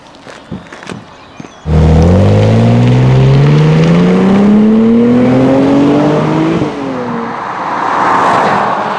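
After a quiet start, a Mercedes C-Class Coupé engine starts and revs up loudly, pitch climbing steadily through the gears for several seconds before easing off, on roads in Seville, Spain.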